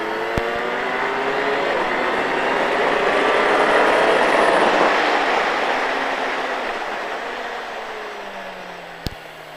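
A car accelerating on a damp racing track, its engine note rising and then fading as it passes, loud and close, with a sharp click near the end and no talk.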